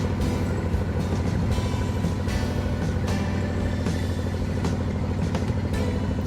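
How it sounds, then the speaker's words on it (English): A boat engine chugs steadily on a muddy river in Borneo, a loud, close, continuous low drone with regular throbbing pulses and no talking. "The sound of the engine made me feel like Humphrey Bogart in The African Queen."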